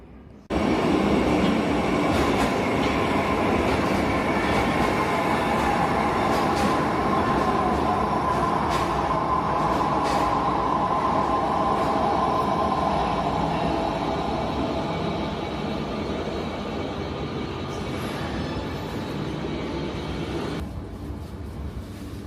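A loud metro train rumbles and roars continuously through Prospekt Pobedy station in Russia, with metallic screeches and clatter rising and falling over the noise.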